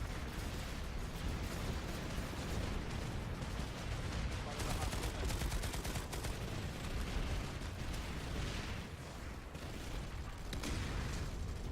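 Gunfire from hip firing in an infantry video game, dense rapid shots and booms in an unbroken loud barrage throughout, with a voice faintly under the din.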